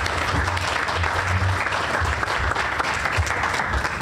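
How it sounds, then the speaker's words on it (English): Steady applause from an audience, a continuous wash of clapping hands throughout with no break. "Please give them a round of applause."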